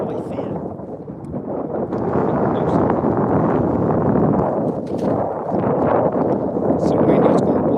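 Strong wind on the water while striper fishing buffets the microphone in a constant heavy rumble, gusting harder and softer across the whole stretch with faint clattering underneath.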